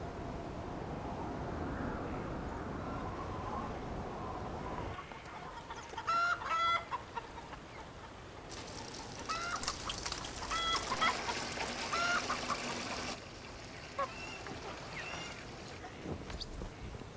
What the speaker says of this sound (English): a clucking sound caught his attention